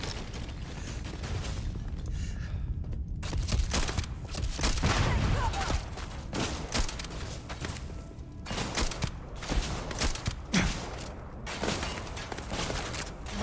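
Weapon fire in the Starfield Shattered Space video game, with repeated bursts of shots firing blind against an enemy in survival mode, loud and dense across the whole stretch.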